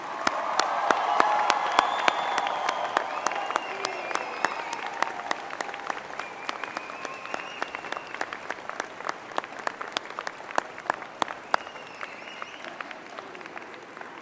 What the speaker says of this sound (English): join me in applauding the graduating class